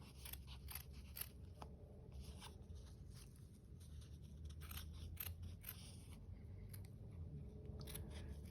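Scissors snipping around a paper pattern on fabric for a flower gnome hat, a steady series of faint, close crisp cuts in an irregular rhythm over a low background hum, no talking.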